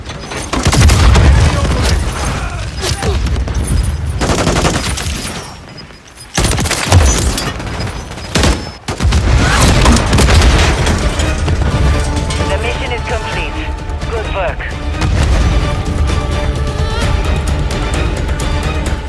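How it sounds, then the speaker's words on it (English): Grenade explosions and gunfire in the video game Modern Warfare 3: loud booming blasts and crashing bursts with sustained rumbling, layered under frequent talk across the clip. "they're using grenades, bro"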